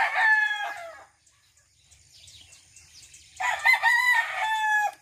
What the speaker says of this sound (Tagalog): So ito po yung mga alagang manok ni Papa dito.